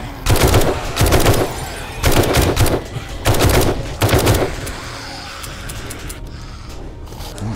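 Automatic weapon fire in the survival game 7 Days To Die: four loud, rapid bursts about a second apart, then the shooting stops and only a low ambient hum remains.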